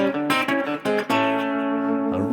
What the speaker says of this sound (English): A really nice double stop phrase